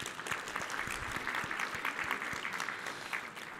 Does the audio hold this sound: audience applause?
yes